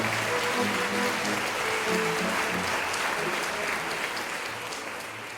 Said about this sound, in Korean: 박수로 힘차게 맞아주시기 바랍니다.